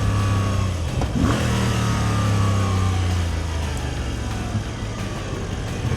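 A Moto Guzzi V85 TT motorcycle engine warming up, a loud, close, steady rumbling idle with a brief rev swell early on, holding a constant throb afterward with no speech.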